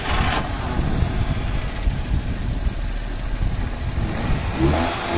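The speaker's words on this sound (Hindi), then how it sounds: "अभी से भाई आप इस गाड़ी के साउंड सुनना" A 24-year-old Maruti 800 five-speed car engine starts and settles into a steady idle, a close, low, even rumble with a slight rev near the end and no talking.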